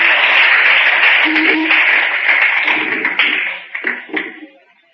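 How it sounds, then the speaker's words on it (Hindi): An audience at a lecture on the history of India's independence breaks into dense, sustained applause that thins out into scattered claps and fades at the end. "आओ तालियां"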